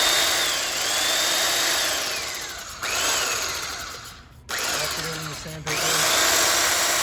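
A handheld belt sander with sandpaper whirs loudly at close range, its high motor whine stopping and restarting twice in quick bursts.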